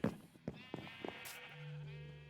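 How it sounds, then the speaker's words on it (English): Sheep bleating in a sheep pen in the video game Minecraft: several short bleats in the first second, then one long, steady bleat that holds to the end, with no talk. "You can see my new sheep pen."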